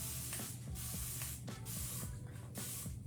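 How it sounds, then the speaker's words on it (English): A spray bottle mists water onto a plastic planter in several quick, soft hissing bursts, close and fairly quiet, with no talking. "I'm just gonna spray it. You just want it a little bit damp."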